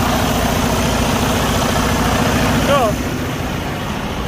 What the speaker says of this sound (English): Engine has been running for like many hours already